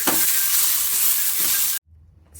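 Onions frying and being stirred in a pan, a steady close sizzle that cuts off abruptly before a short quieter stretch.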